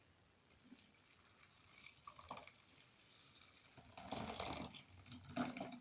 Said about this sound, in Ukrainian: Саме перше, що нам потрібно зробити, це заляти наші вівсяні пластівці окропом.